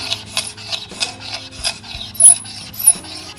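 A hand scraper blade drags across a wood floor along the grain in quick, rhythmic rasping strokes, about five or six in a few seconds, close and fairly loud, with a brief high squeal on a couple of passes.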